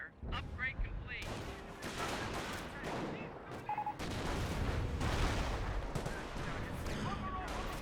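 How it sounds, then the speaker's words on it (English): Sniper rifle shots in the World War II strategy game Company of Heroes, sharp cracks within a dense battle mix of gunfire, artillery and explosions, with voices speaking over the action. "Sniper fires some shots there"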